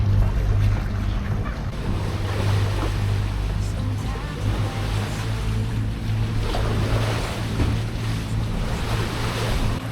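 Sailboat motoring out of a bay with the mainsail up, steady low engine drone beneath constant rushing waves and wind buffeting the microphone, continuous and close throughout.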